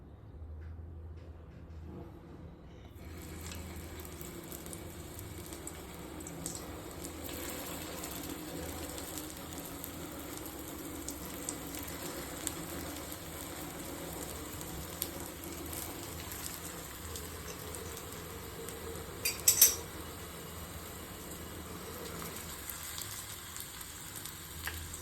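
Aloo tikki (fasting-style potato patties) frying on a tawa over low gas, a steady soft sizzle that starts after a quiet opening and holds evenly, with a few faint clicks and a brief clatter near the end.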